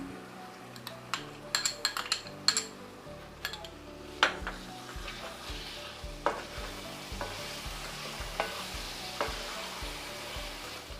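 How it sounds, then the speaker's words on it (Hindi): Potato curry with yogurt stir-fried in a pan over low heat, a steady soft sizzle under repeated scraping and clinking strokes of a spoon against the pan, with no talking. "करीब 7-8 मिनट धीमी आंच पर इसी तरीके से सब्ज़ी को अच्छे से भून लेंगे।"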